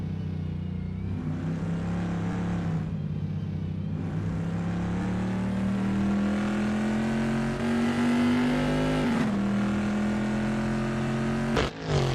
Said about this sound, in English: That ACL GTC Bizzarini GT 5300 Casa looks good driving through Ravazza.